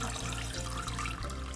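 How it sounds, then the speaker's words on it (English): Water runs steadily into a toy baby-doll bath, a continuous close splashing and rushing flow with a low hum beneath it. "All right, Bailey, it's almost time to turn the water off."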